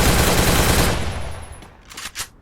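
Automatic gunfire in a shooter video game, a dense rapid burst of shots loud and close, tapering off into a couple of sharper final cracks.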